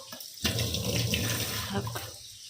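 Water runs steadily from a kitchen tap as dishes are washed up, a close, continuous splashing stream that carries on for the whole span.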